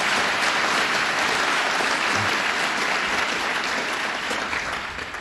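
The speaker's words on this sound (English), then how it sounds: "let's give her a round of applause" Sustained applause for District Attorney Janet DiFiore at a governor's State of the State and budget address in Westchester, a dense, steady roar of clapping from a large audience that tapers slightly at the end.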